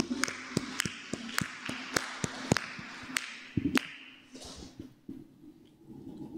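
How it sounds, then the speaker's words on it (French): Congregation at a weekday morning Catholic Mass clapping in a burst of sharp, uneven claps over the first few seconds, fading into murmuring voices and scattered taps. "Nous applaudissons, nous battons bravo pour eux."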